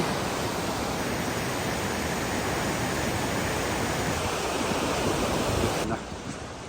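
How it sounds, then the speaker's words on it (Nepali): Steady, dense rushing of a waterfall in the Langtang Valley, Nepal, a continuous broadband roar that stays even throughout before dropping slightly at the end. "यस्तो मजाको झरना पनि देखिन्छ यहाँनिर"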